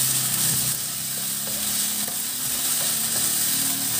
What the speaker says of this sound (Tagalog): Haluin natin para dumikit sa ating ground pork yung oyster.